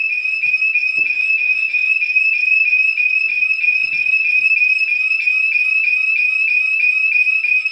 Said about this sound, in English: So by the time the alarm goes off, let's go ahead and turn it off.